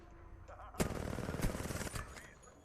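An R99 submachine gun in a first-person shooter game fires a rapid, rattling automatic burst lasting over a second, fairly faint, with a voice heard around it.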